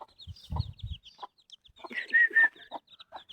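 Chicks and chickens cluck in short, scattered calls close by, with higher chirps and a pair of brief squawks rising over otherwise quiet surroundings.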